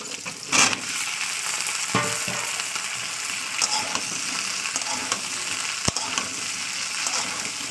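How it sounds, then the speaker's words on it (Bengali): Chopped okra with green chilli and onion fries in mustard oil in a wok, making a steady close sizzle with a few sharp clicks and scrapes from stirring. "দিয়ে ভালো করে দু থেকে তিন মিনিট আমি তেলের সঙ্গে ফ্রাই করে নেব"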